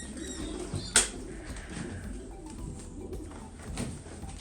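A blue bar racing pigeon, likely a hen, from a one-loft race in Upper Canada coos softly and low, with a sharp click and a brief flutter near the start.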